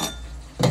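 A spoon clinks against the inside of a glass in a short bright burst near the end, after a moment of quiet background hum.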